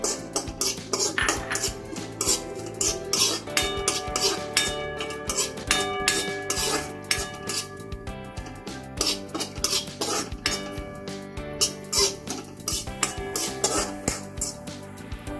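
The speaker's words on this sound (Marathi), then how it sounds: "त्याच कढईमध्ये आपण आता मगज भाजून घेणार आहोत." Melon seeds (magaj) being roasted in a kadhai, stirred with a metal spoon: rapid, steady scraping and clinking of metal on metal, close and continuous with no talking.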